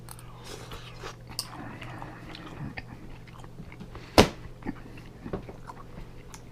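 Close, soft chewing and biting on pepper steak beef, with moist crunches and one sharper bite standing out over a low steady background hum, then a few quieter chews.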